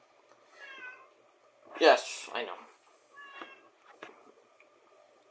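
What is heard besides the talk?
pet cat meowing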